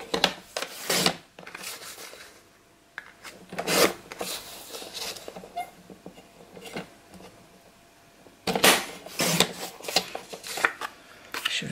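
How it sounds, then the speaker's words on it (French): Paper being cut for a scrapbooking pocket letter, heard as quiet, intermittent rasping cuts in short bursts separated by pauses, close by. "Et là je vais découper pour le haut pareil"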